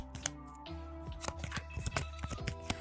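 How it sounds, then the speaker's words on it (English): Sleeved trading cards being shuffled by hand, a run of crisp plastic riffling clicks and slaps in quick irregular bursts, close and fairly quiet, with no talking. "you can get this awesome shuffle sound like this"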